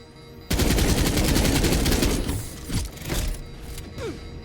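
Gunfire in the video game Earth From Another Sun during a space station assault: a sudden loud, dense burst of rapid automatic shots that holds steady for about two seconds, then breaks into scattered thumps and shots.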